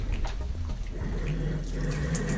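Water poured over a cat during a bath at home, a close splashing trickle running steadily, with a low hum beneath.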